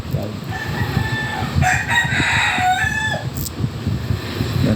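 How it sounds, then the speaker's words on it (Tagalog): Roosters crow in long, drawn-out calls that overlap, close by, over a rustling, noisy farmyard background. "Tingog ng mga manok na to dire"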